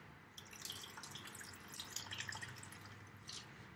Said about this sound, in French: Pour celui-là, on va lui rajouter un peu d'eau,